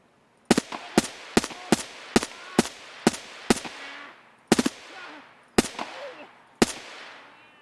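Gunfire from a player exchanging shots with a player scav in the game Escape from Tarkov, a volley of sharp close shots in an uneven rhythm, about fourteen in quick succession with short gaps and a ringing tail after each.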